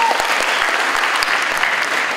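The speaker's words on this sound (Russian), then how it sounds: "аплодисменты Алексею" A live comedy show audience claps in steady, dense applause that fills the whole short stretch, loud and close.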